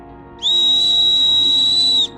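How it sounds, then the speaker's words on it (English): A survival whistle on an Aneagle dual arc lighter blown in one steady, shrill blast lasting about a second and a half, loud and close, with nothing else around it. "That's the survival whistle and the flashlight option on the Aneagle arc lighter."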